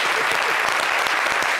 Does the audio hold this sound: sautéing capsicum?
no